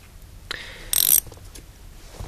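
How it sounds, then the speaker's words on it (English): A ratcheting wrench turning a 13 mm nut on a stud during a seat swap in a third-generation Camaro or Firebird interior, one short burst of rapid metallic clicks, close and clear, then quiet. "like a wrench, or I have a ratcheting wrench"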